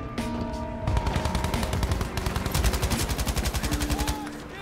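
Rapid sustained fire from a gold MG-34 machine gun in Battlefield V, a dense, even stream of close, loud shots running almost the whole time, broken only by a brief pause.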